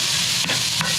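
Vegetables sauté in a pan with a loud, continuous sizzle and hiss, close up, with a couple of brief scraping stirs breaking through the frying noise.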